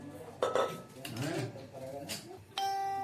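Dishes, pots and steel utensils clatter and clink as they are handled in a home kitchen, with bright metallic rings and a sustained resonant tone near the end, under someone talking.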